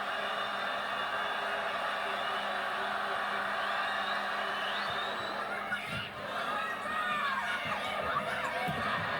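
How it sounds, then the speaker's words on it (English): A large arena crowd at a women's college volleyball match between Penn State and Nebraska keeps up a sustained, noisy roar of cheering and shouting, swelling midway with scattered higher yells over the din. "I think that run woke the crowd up."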